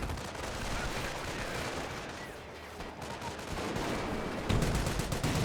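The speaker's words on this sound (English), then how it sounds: "MG42 firing away." MG42 machine gun firing in the strategy game Company of Heroes, a dense, continuous crackle of automatic fire mixed with distant battle noise and explosions, growing heavier toward the end.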